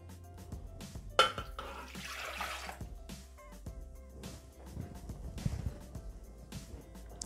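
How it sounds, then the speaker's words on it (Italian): Milk poured into a Thermomix (Bimby) mixing bowl, a close liquid rush and splash with a clunk near the start and some handling noise, without speech. "Iniziamo la ricetta mettendo all'interno del boccale il latte."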